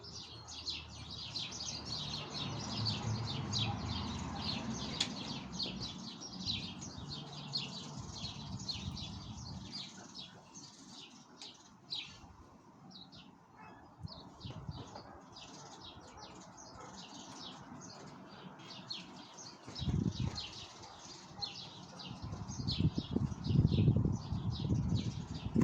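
Small birds chirping outside a veranda, a dense, continuous chorus of quick tweets over a low background rumble, with a few louder low thumps near the end.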